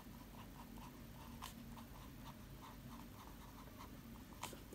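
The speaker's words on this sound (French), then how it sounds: "l'encre glisse bien, on n'a aucun problème pour écrire" A fountain pen filled with Waterman ink glides across notebook paper in a quiet, close, steady scratch of small strokes, faint against a low background hum, with no voices.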